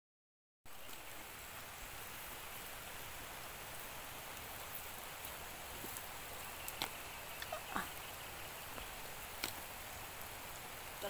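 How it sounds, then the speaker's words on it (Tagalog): Heavy rain pours down steadily over a cassava harvest field, a dense, even wash of hiss with a few sharper drop impacts standing out now and then, loud and close with no talking. "Hagbong ang ulan."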